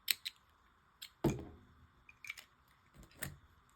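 Scissors snipping off a yarn end on a crocheted cat-ear ruffle hat, a few quiet, close, sharp clicks and cuts spaced across a few seconds with no talking.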